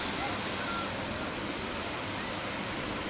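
Surf rolling onto the Black Sea beach at Anapa under a southwesterly wind, heard as a steady, broad wash of waves and wind noise on the microphone with no distinct breaks and no talk.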